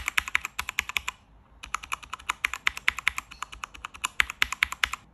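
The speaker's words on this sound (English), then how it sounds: "Fast typing without dampeners." Fast typing on a mechanical keyboard with Cherry MX Blue switches and no dampeners: rapid, crisp, clicky keystrokes close up in quick bursts with a brief pause, alone.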